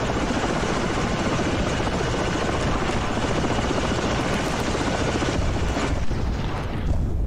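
A Chinook helicopter in the Ravenfield video game, landing on a carrier hangar, gives a loud, continuous rotor and engine roar that stays close and steady throughout.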